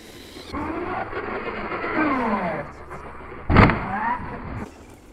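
SG Pinecone Forest 1201/1202 RC car accelerates with a high, whiny motor that rises in pitch, followed by a sharp knock or impact, heard close under someone talking.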